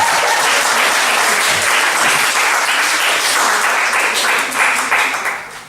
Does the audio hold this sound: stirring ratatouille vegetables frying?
no